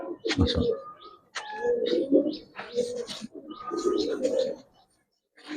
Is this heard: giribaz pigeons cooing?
yes